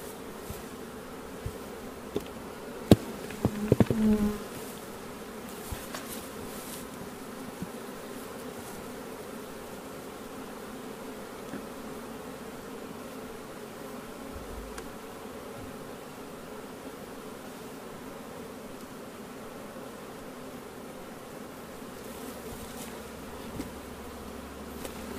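Honey bees hum in a dense, continuous buzz around a hive with brood, steady and close for the whole stretch, with a few faint knocks early on.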